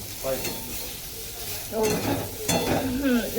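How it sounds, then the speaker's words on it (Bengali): Potato curry frying in a pan and being stirred, with soft sizzling and a few scraping strokes of the spoon at close range, heard alone without talk. "এই যে এখানে করছি তরকারি এটা হচ্ছে সবিন আলুর তরকারি"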